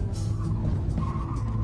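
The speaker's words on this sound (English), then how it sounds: "deliberately throw the weight to send it sideways, and then control the slide with opposite lock" Front-wheel-drive car sliding sideways through a Scandinavian flick, low engine rumble with a brief tire scrub and skid sounds, close and steady for under two seconds, no talk.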